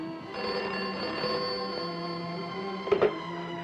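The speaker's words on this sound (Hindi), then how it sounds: "हाँ फोन है तुम्हारा।" A telephone rings steadily in a 1970 Hindi film scene, a sustained bright electric bell tone with a sharp clattering burst near the end, heard alone without speech.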